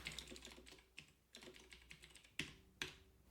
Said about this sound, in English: that's my not impressed typing.